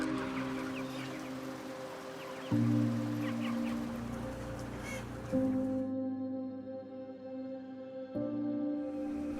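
Chickens fill a crowded factory farm shed, their clucking and squawks overlapping at close range over a steady droning tone that runs throughout.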